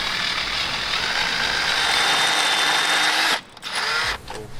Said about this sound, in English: Okay, so we drilled the hole.